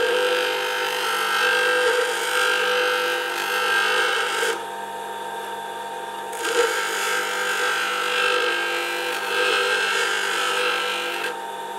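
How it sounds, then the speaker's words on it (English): A grinder taking a light cut off a Tesla turbine part, a steady loud whirring grind that briefly drops away and resumes, heard close with no talking. "Simply take a light cut off it on the grinder."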